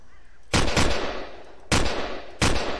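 Gunfire in the Synty Survival demo video game: three loud, close bursts of rapid shots about a second apart, each a short clattering volley that rings off between bursts.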